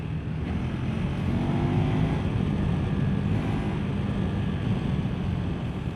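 A KTM Adventure 390 R motorcycle engine runs steadily while riding, with a dense, continuous drone and rushing wind noise that stays loud and even throughout.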